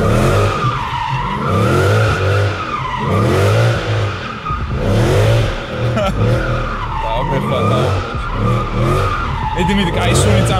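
Tires on a Mercedes C63 AMG squeal and skid in repeated waves as the car drifts a figure eight, with the engine revving hard underneath, loud and close throughout.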